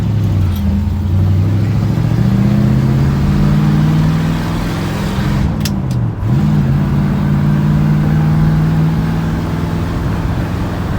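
A 1964 Chevrolet Impala with a 4-speed gearbox cruises down the road, its engine a loud, steady drone with a brief dip and rise in pitch partway through, like a gear change, and no talking.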